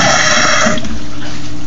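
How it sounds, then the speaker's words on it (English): A bell siphon with a 1-inch cap on its breather tube breaks and sucks in air, giving a loud, close gurgling slurp of air and water that then settles into a lower, rumbling drain. "as you probably heard, it has the ability now to suck a whole lot of air"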